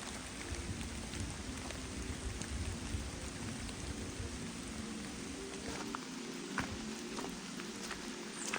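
Torrential rain pours down on a woodland hiking trail in a steady, dense hiss with faint scattered drips. The sound is moderately soft and even, with no voices.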